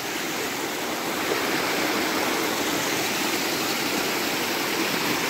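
Water gushing forcefully from a newly burst spring in the ground, with stones pushed out around it, a loud, steady, dense rush like a waterfall heard close up, with no voices.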